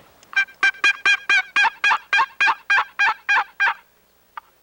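A hunter's call imitates a hen turkey yelp: a steady run of about thirteen loud, raspy notes at an even rhythm, close and clear, ending with one faint click.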